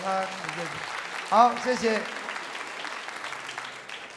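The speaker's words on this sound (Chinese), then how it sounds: "给他鼓掌一下" Clapping rises from a church congregation at a Taiwanese Presbyterian Sunday service, a soft, diffuse patter that follows a short spoken thanks and fades gradually.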